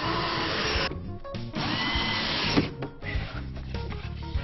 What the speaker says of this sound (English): We pre-drill and countersink all of the frames to ensure that they don't split.